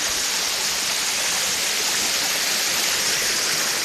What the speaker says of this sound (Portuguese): Hoje eu tô aqui visitando as cachoeiras de Manzamba, aqui no Rio de Janeiro.